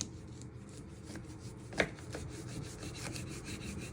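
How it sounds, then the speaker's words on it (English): A knife slices through oranges on a board, one firm cut landing in the middle with a few softer scrapes around it, close and quiet with no talking. "you want to get 2 oranges and you want to cut them down the middle"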